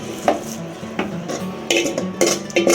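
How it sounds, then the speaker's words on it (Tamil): Spice mixture of tempered powder, curry leaves, tomato and onion stirred into rice in a pan for sambar rice, with a metal spoon scraping and clinking against the pan in several sharp, irregular strokes. "இந்த டயத்தில் நம்ம வடைச்சட்டியில் தாளித்து வச்சுருக்கிறோமில்ல, பொடி, கருவேப்பிலை, தக்காளி, வெங்காயம் எல்லாம் அந்த கலவையை இதில் ஊற்றி கிண்டி விடணும்"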